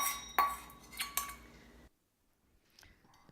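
A spoon clinks against the inside of a mug while strawberry cake batter with egg is mixed, giving a few sharp metallic taps over about two seconds before the sound stops.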